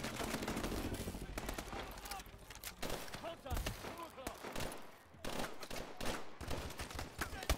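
Gunfire in Call of Duty: Advanced Warfare, with dense rapid bursts of automatic fire and shots crackling almost continuously, mixed with game noise and some voice in the background.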